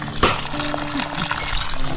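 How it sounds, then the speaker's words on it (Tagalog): Spring water from underground pours steadily through a bamboo spout, a close, continuous splashing trickle with bright gurgling and no pauses. "Ayan po yung tubod ay galing po yan sa ilalim ng lupa."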